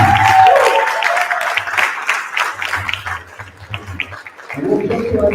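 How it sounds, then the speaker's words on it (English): An audience at a live conference session in Los Angeles applauds a panel, with dense clapping, scattered cheers and a few shouting voices over several seconds. "Let's also stand and give an amazing round of applause for our panel, Aaron, Sandra, and Johnny."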